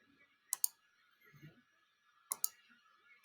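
Two pairs of crisp computer mouse clicks, close and sharp, separated by quiet room tone with a faint soft murmur between them.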